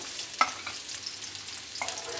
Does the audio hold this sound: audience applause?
no